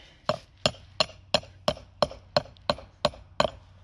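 A hammer strikes flagstone in ten sharp, evenly spaced blows, chipping small pieces off a cut edge, close and crisp, each hit ringing briefly with no talking.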